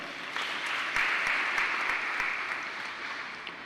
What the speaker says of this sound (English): We give them all a round of applause.